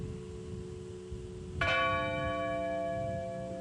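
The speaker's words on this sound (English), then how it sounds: "As the bells tolled in Shanksville, Pennsylvania, once for each person who died on Flight 93" A church bell tolls once at a memorial in Shanksville, Pennsylvania, for Flight 93. The struck note rings out sharply and hangs in a long, fading resonance over quiet background hum.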